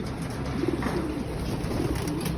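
Pigeons coo softly in a loft during a morning session, low throaty calls repeating under a steady background hum, fairly close, with no talking.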